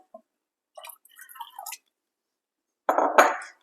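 Water is poured over soaked chickpeas in a pressure cooker, with a short splashing, dripping burst followed by a louder, fuller pour near the end, close and otherwise quiet.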